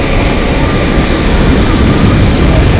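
A United Boeing 777-200 airliner rolling at Zurich Airport produces a loud, steady broadband engine roar with a deep rumble, unbroken and close throughout, with no talking.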